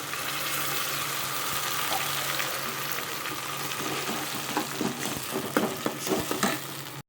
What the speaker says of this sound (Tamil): இப்போது நம்ம அரைச்சி வச்சுருக்க இந்த தக்காளி பேஸ்ட்டையும் சேர்த்துக்கலாம்